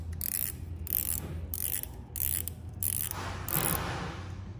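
A Daiwa Cadia FC LT2500S spinning fishing reel being turned close up, its mechanism giving repeated bursts of fine whirring and ratcheting clicks in a steady rhythm of about six spins, with no talk.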